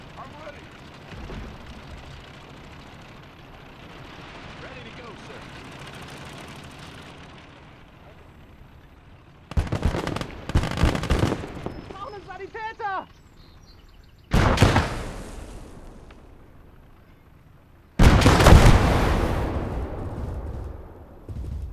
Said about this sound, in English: Half-track destroyed and its crew eliminated.